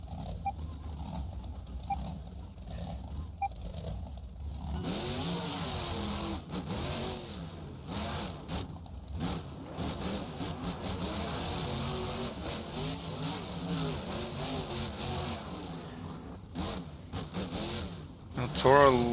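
Two racing trucks rev their engines on a Daytona, Florida track at the start of a championship race, a loud continuous mechanical drone that carries from about five seconds on, with voices talking over it.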